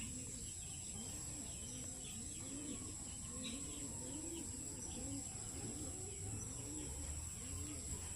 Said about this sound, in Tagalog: Ito nga palang mga kalapati ko.